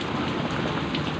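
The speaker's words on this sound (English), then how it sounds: "it's pouring right down on top of them" Heavy rain pours down outdoors over a small dog shelter, heard as a dense, steady hiss of drops drumming on surfaces, close and loud, with no voices.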